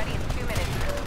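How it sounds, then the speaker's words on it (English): Rapid assault rifle fire in the video game Titanfall, a dense, continuous burst of gunshots packed into a brief moment, loud and close amid busy game noise. "Took him down with my assault rifle."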